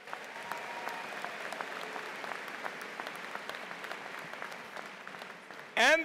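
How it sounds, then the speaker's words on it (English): Steady applause from a large audience at a university commencement, a dense crackle of clapping that holds evenly for several seconds before a brief louder burst at the end. "Give the faculty and staff another round of applause."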